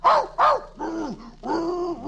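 A St. Bernard in a radio drama growls and barks twice in loud close bursts, then gives two longer rumbling, whining growls.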